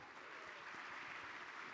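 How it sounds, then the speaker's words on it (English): Audience applause welcoming a guest speaker onto the stage at a business seminar in Aruba, a steady dense clapping that fills the room throughout with no break. "Let's welcome her with a big round of applause."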